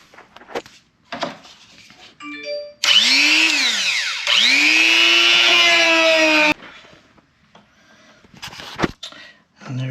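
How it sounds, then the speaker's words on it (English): A Dremel rotary tool cuts and sands a night vision camera mount on a Challenger, whining loudly and steadily for about four seconds with a brief dip in pitch, between quieter handling noises. "So I do have my Dremel, so I'm just gonna go ahead, again, just kind of wedge in a little bit, sand a little, you know, cut off here"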